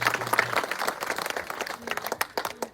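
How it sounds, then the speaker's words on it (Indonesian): Crowd applause breaks out at a school opening ceremony for a combined primary and junior high school building in Towe, Keerom, a dense steady patter of many hands clapping nearby for a few seconds. "Tepuk tangan yang meriah untuk mengiringi pembukaan papan selubung SD dan SMP 1 atap Terpones"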